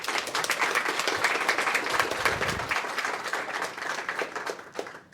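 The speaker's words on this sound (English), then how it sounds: "let's do a warm applause for Vitalik here" Audience applause at an Ethereum meetup greets Vitalik Buterin before a fireside chat, a dense, steady wash of many hands clapping that lasts throughout and tapers slightly at the end.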